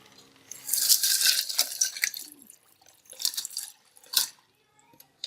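Water mixed with ice poured into a blender jug holding phalsa berries, sugar and Rooh Afza syrup: a bright splashing pour with clinking ice, a few tapping knocks, then a second shorter splash, heard close and fairly soft.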